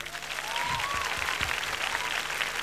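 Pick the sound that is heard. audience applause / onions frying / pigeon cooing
audience applause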